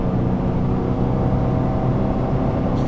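Exhaust note of a Nissan Frontier Nismo pickup while driving, cruising around 4250 rpm at about 45 mph: a steady, continuous low engine and exhaust drone, fairly loud and alone with no speech.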